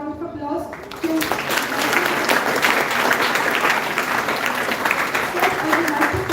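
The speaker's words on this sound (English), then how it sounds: "All the students, please give a big round of applause to" Loud, sustained applause from a crowd that bursts in after a brief moment of speech and continues steadily.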